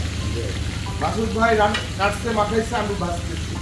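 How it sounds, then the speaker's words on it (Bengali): Hilsa fish fries in hot oil with a busy, crackling sizzle, heard close, while voices talk underneath. "রান্না করছি ইলিশ মাছ"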